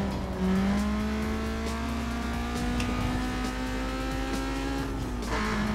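Fiat Punto racing in Need for Speed Most Wanted, its engine holding a steady, loud, high drone as it climbs gradually through the revs, then dipping briefly near the end, with faint tyre noise underneath and no talking.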